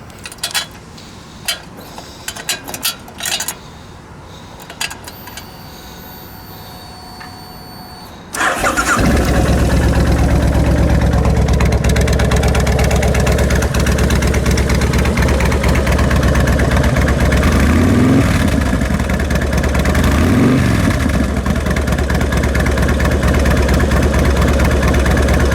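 A 2005 Kawasaki Vulcan Classic motorcycle has its engine cranked and fired up, catching abruptly and settling into a loud, steady, rumbling idle with a couple of throttle blips, heard up close with no talk.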